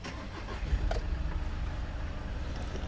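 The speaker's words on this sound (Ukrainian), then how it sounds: "автомобіль заводиться з півоберту, легесенько працює як часи, е, моторчик працює рівненько" A 2018 Volkswagen Crafter 2.0 TDI diesel van with DSG gearbox is heard idling: a steady low engine rumble with a small rise near the start, fairly faint, with no talk.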